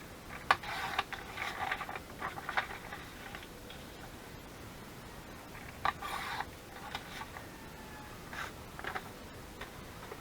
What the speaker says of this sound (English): I'm just going to cut down some paper.